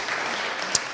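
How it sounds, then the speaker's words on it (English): An audience applauds at a panel event, a brief dense patter of many clapping hands at steady volume. "can we have a bit of audience participation, some claps, please?"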